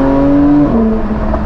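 Car engine revving hard with a steady high pitch that dips and climbs again as it shifts while driving flat out, loud and close with no talking.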